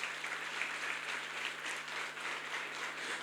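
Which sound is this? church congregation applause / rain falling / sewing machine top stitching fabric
church congregation applause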